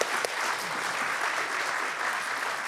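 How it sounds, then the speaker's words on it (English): Audience at a Free Speech Union event in Christchurch claps steadily, a dense, even burst of applause heard fairly close for a few seconds with no talk over it. "Give him a round of applause."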